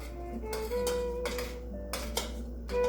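Light metallic clinks and scrapes of a utensil stirring golden milk in a frying pan, several brief strikes scattered over a steady low hum.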